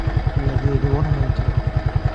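Motorcycle engine idling with a steady, rapid thumping pulse, close and moderately loud throughout.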